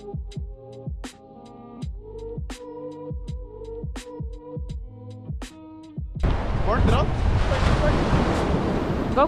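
Ocean surf at a beach breaks in as a loud, broad wash of waves and wind noise, following a stretch of other sound with sharp repeated hits.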